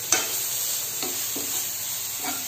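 Stuffed bitter gourd frying in a pan sizzles steadily up close while turmeric powder is stirred in, with a handful of soft spoon scrapes against the pan and no talking.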